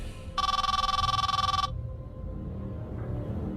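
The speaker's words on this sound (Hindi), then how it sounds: "उसके मोबाइल की घंटी फिर से बजने लगी" A mobile phone rings in a bright electronic trill lasting just over a second, then stops, leaving quiet background noise.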